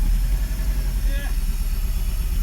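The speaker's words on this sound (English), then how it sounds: "The engine was now running well" A Toyota MR2 engine running steadily after a repair, a close, loud low idle drone that holds throughout, with brief voices over it.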